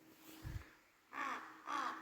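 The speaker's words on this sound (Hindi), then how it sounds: "कौवे ने मुंह पर मतलब पूरी ले रखी है, उसके बाद भी वो आवाज कर रहा है।" Two harsh crow caws, close and loud, about half a second apart, preceded by a brief low thump against quiet outdoor background in a village near Ranikhet; the crow holds a puri in its beak while cawing.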